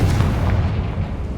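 A Confringo blasting spell exploding in the Hogwarts Legacy video game, one loud, deep boom that rolls and fades over a second and a half.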